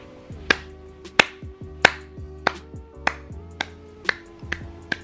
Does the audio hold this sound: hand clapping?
yes